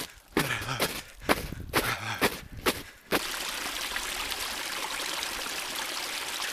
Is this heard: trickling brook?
yes